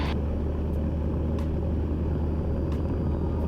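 A Cessna light aircraft at full power on its takeoff roll, a steady loud low engine drone and rumble filling the cabin, continuous and unbroken with a few faint clicks.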